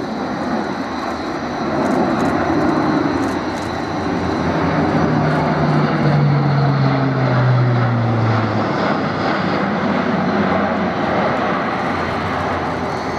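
An Airbus A400M with contra-rotating propellers driven by four Europrop TP400D6 turboprops passes at an air display, giving a loud, continuous propeller drone with a falling pitch sweep as it goes by.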